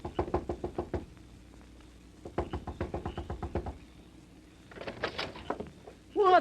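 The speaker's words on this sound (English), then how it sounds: "Knock on the door" Knuckles rap on the wooden door of an Old West boarding house in a radio western drama: a quick volley of knocks, a pause, then a longer second round. Faint rustling follows, and a voice starts at the very end.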